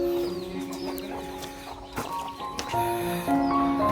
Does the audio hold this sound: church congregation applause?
no